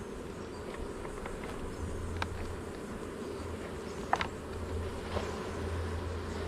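Honey bees working around a bamboo hive frame on a waterfront, a soft steady hum of many insects with a low droning band, a few brief faint clicks mixed in.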